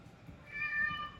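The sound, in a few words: cat meowing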